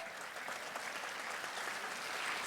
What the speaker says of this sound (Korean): 세게 좀 쳐요 박수.